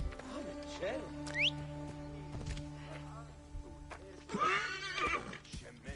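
A summoned steed in a PlayStation 4 video game neighs and whinnies, with several sharp rising whinnies and snorts across the clip, plus faint hoof clip-clop over a low game background.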